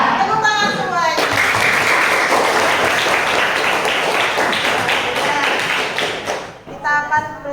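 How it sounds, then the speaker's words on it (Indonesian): Students in a classroom burst into loud, dense hand clapping for several seconds on a teacher's cue. A voice is heard briefly just before and after. "Tepuk tangan semuanya."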